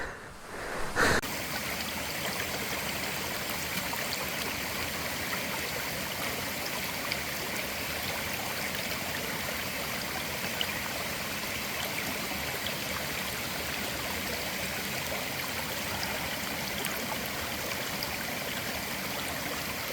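A natural mountain stream on a hillside trail between Didupe and Samse in the monsoon rushes steadily and loudly for the whole stretch, a dense unbroken wash of flowing water after a brief knock at the start, with no talking.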